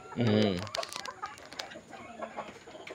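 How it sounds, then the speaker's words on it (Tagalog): A rooster crows once, short and close, followed by quieter rustling and faint background clucks. "Aba, maganda palang tilaok"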